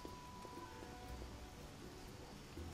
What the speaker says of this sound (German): das kommt davon, wenn man im Regen steht